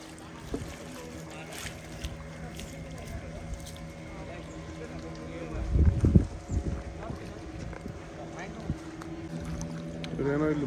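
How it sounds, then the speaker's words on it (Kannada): A boat motors along a river toward a mangrove forest near Kundapura, its engine a steady, close drone throughout, with a brief louder churn of water around the middle and voices faintly present. "ಸೊ ಈಗ ನಾವು ಮ್ಯಾಂಗ್ರೋವ್ ಫಾರೆಸ್ಟ್ಗೆ ಬೋಟಲ್ಲಿ ಹೋಗ್ತಿದ್ದೀವಿ."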